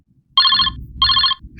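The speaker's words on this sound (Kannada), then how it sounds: "ನೋಡು, ನನಗ್ ಫೋನ್ ಬರ್ತಾ ಇದೆ." A phone ringtone chirps loudly and close by in two short trilling bursts, with a low rumble of background noise beneath, during a comedy stage skit.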